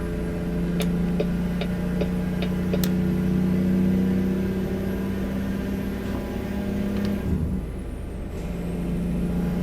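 Simulated heavy truck engine brake in American Truck Simulator, chirping briefly on let-off and shifts: a steady low diesel drone runs throughout, with short sharp ticks and a bright chirp near the start, then a dip at a gear change.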